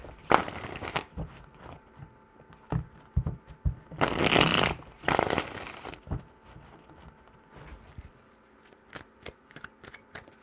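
A deck of tarot cards is shuffled in short bursts, crisp riffling flutters close to the mic separated by pauses, with one longer shuffle in the middle and a few quick taps near the end.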